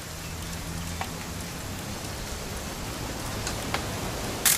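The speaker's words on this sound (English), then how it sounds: "It's gonna rain the whole weekend" Steady rain falls in a video game scene, a dense even hiss of drops with a few sharper taps, and a low hum runs beneath it.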